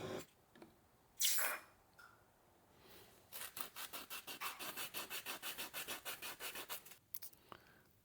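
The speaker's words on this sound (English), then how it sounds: "and then we'll sand this edge." The edge of a silver Australian florin coin ring is sanded by hand. A few separate rubs give way to a run of about fifteen rhythmic, close scratchy strokes, then it goes quiet.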